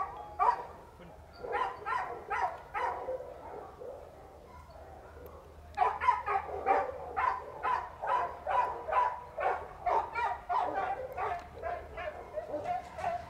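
Several dogs bark in short yipping bursts at a puppy and adult dog training class, a sparse run of barks followed by a denser, rapid volley at moderate distance.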